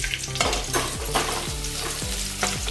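Coarsely crushed garlic frying in hot oil for Diwali chivda namkeen, a close, steady sizzle broken by several sharp spatula stirs and scrapes against the pan.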